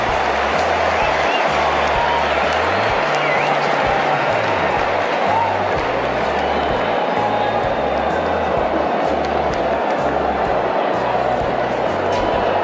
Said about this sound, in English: You're wondering what all the yelling's about.